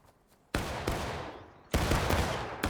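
Two sharp, loud musket volleys in War of Rights, each a sudden massed crack decaying into a long rattling roar, the second about a second after the first, with faint shots before.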